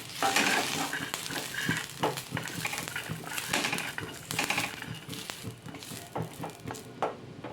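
Roasted green chillies and garlic are scraped out of a pan into a vessel. A spatula stirs and scrapes in quick, irregular strokes with light clinks and a faint sizzle, and there is no talking.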